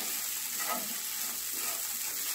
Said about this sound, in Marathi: आता आपल्याला हे छान असं मिक्स करून घ्यायचं आहे